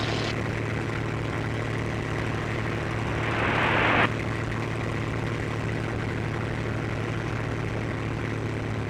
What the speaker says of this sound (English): not used to a water-cooled airplane engine